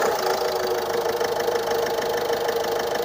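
A 2017 Ford EcoSport engine idles steadily and close by, a continuous even hum with a faint pulsing rhythm and no voices over it.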